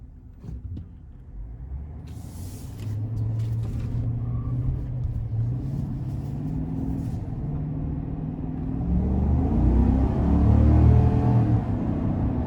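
A 2020 Chevrolet Silverado 1500 High Country pickup with a 6.2-liter V8 and 4WD accelerates on a street test drive, its steady low engine rumble heard from the cabin and swelling louder as it pulls, with no talking.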